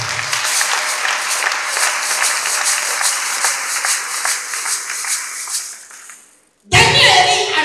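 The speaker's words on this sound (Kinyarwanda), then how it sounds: "Amashyi ku Bwana yacu." A church congregation claps in sustained applause, fading out toward the end before a loud burst of voices or noise cuts in.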